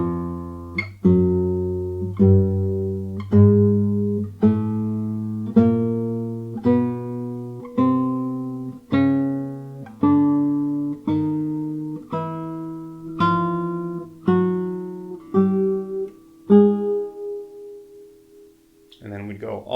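Clean plucked octave notes played slowly one after another, about fifteen evenly spaced notes each ringing and decaying, moving up and down the strings, alone and moderately loud.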